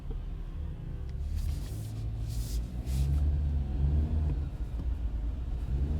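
Low, steady engine and exhaust rumble from a Jeep Wrangler Rubicon driving on an ordinary road, heard from inside the cabin as a continuous droning hum with road noise.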